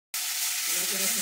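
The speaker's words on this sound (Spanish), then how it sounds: "por allá en el sartén está salteando unos tomatitos" Tomatoes sautéing in a frying pan for a pasta dinner, a loud, continuous sizzle and hiss that begins abruptly and keeps a crackling, steady texture.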